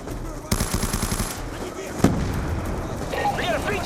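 Rapid automatic gunfire and a sharp blast in Call of Duty Black Ops II combat, loud bursts of shots followed by a single heavy impact, with game effects trailing afterward.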